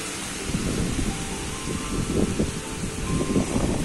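Strong wind buffets and rumbles through a downpour, gusting unevenly in loud bursts over a constant hiss of rain.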